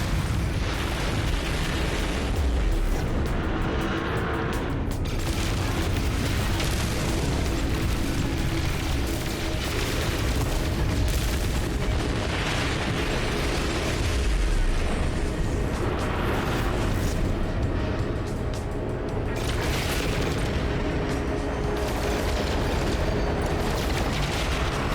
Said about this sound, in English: Incoming missile neutralized.